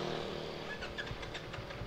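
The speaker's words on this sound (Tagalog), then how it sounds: "Test run na to atong kuan gears, no, sa quick shifter." A CFMOTO 450SR motorcycle engine droning at a distance, its pitch shifting as gears change through the quickshifter on a test run, steady and moderately faint with no voices.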